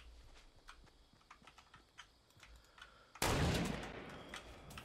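A single loud gunshot in the video game Fortnite bursts out late, sharp and close, and fades slowly over light clicking and footstep-like taps from the game.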